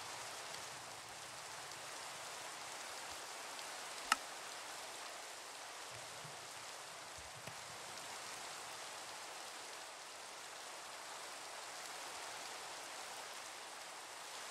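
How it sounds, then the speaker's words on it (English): Steady rain falls in the Minecraft video game, a dense, even hiss of drops that continues unbroken and fairly close, with only a couple of faint ticks and no talking over it. "bring the weather down so we're not overpowered by the rain"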